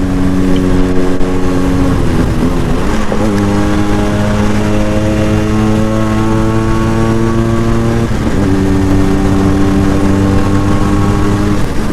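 Yamaha RXZ motorcycle engine while riding, a loud steady drone whose pitch shifts up and down twice as the rider changes gears, with no talking.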